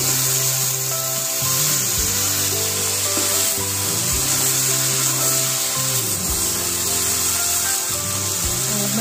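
A spoon or spatula stirs a potato and cowpea curry in a pan, scraping and rubbing in repeated strokes over a continuous sizzle. The sound is close and loud, with no talking.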